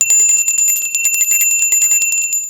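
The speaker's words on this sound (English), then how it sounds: "but are soon interrupted by the bell" An office bell rings continuously in a rapid, bright metallic trill. It is loud and close and stays steady the whole time, with no voices.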